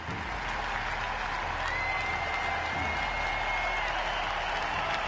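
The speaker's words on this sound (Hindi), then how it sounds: "फैंस ने खड़े होकर लंबे समय तक तालियां बजाई" Fans give a long standing ovation at Roger Federer's tennis farewell, a dense, steady wash of applause from a large stadium crowd that stays even throughout, slightly distant.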